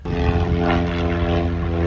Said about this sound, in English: There's a plane if you couldn't hear it.